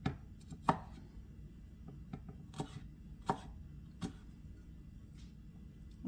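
A knife dices ginger on a cutting board, giving sparse, crisp taps spaced a second or so apart against quiet kitchen background.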